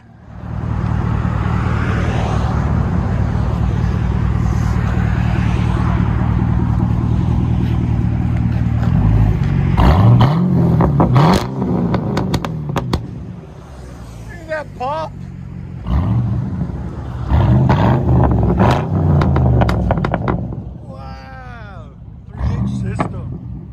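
A Chevy SS Camaro with an X-pipe delete exhaust roars steadily and loudly up close, then rises in sharp revs, with people talking and laughing over the engine.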